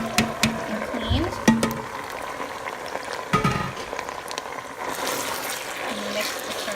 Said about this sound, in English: the escarole is cooking now in the olive oil